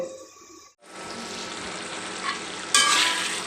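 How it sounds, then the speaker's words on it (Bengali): Chicken cooking with masoor lentils in a pot, stirred with a spoon: a brief sound cuts to a steady bubbling sizzle with soft scraping, then a louder, brighter burst near the end. "একটু নেড়ে চেড়ে দিচ্ছি"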